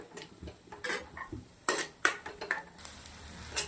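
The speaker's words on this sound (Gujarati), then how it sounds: "આદુ મરચાં લસણ નાખ્યું છે હવે એક જણે ડુંગળી તમારે નાખી દેવાની છે હવે આપણે આને સરસ મજાનું શેકી લેવાનું છે" Ginger, chilli, garlic and onion sautéing in a pan for chilli paneer, a quiet sizzle broken by several sharp spatula scrapes and clinks against the pan.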